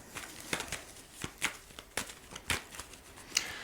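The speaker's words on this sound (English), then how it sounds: "I'm going to just give this a quick shuffle" Soft riffling and papery flicks of tarot cards being shuffled, a series of quick irregular bursts close by, fairly quiet.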